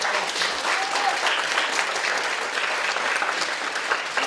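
Dense, steady audience applause fills a concert hall at a music show, loud and sustained throughout with no break or voices on top.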